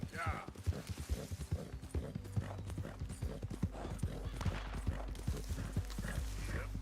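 Horse hooves clip-clopping in the Red Dead Redemption 2 video game, a steady run of close hoofbeats with occasional short snorts, playing under someone talking over the game audio.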